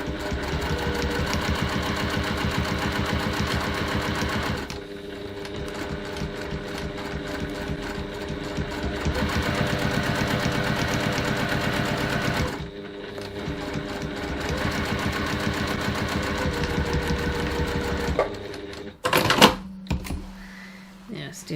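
A sewing machine stitches fabric for a bag, running in long steady whirring bursts with a rapid needle rhythm, pausing twice, then a few clunks and short stops near the end.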